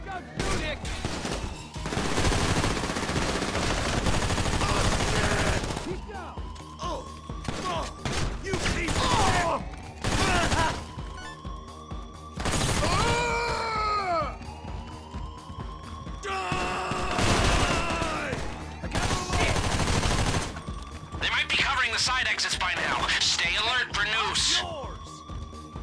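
Heavy gunfire rattles through a Grand Theft Auto V casino heist finale, with sustained machine-gun bursts and repeated shots, loud and dense, mixed with game voices and shouting throughout.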